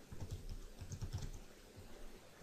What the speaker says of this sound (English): we'll type something in here